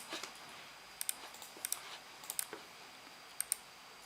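A computer mouse gives sharp, quick clicks in pairs and small clusters as assemblies are selected in software, quiet and close, with faint desk noise between them.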